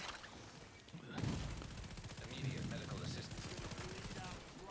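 Shotgun fire in the video game The Division 2: a sudden loud blast about a second in, followed by sustained rattling gunfire and noisy combat clutter.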